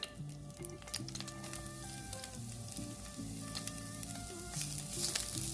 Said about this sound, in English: Just gonna go ahead and add our garlic.